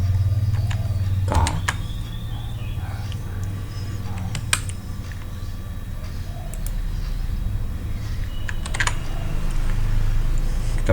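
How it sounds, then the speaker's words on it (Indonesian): Computer keyboard keys pressed for a Ctrl K shortcut, a few sharp close clicks scattered over quiet room noise. "Kita tekan Ctrl"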